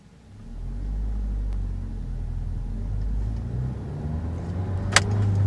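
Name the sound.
2012 Nissan Sentra SE-R Spec-V car driving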